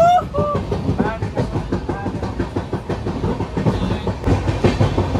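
Continuous clattering rumble of a long-distance train running on rails, heard from inside the carriage, with steady rhythmic clickety-clack and a few brief squeals over a dense low roar.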